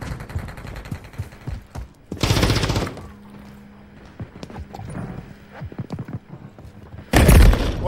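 Gunfire in the shooter game Modern Warfare III: two loud, broadband bursts stand out over a busy bed of game sounds, one early and one near the end, with a quieter stretch between them.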